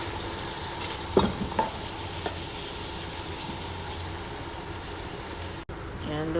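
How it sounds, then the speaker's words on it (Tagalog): Sliced onions fry in ghee in a pan for chicken biryani, a steady close sizzle with a few clinks of stirring early on. "Lagay na natin tong sibuyas. Lutuin natin hanggang sa mag golden brown siya guys."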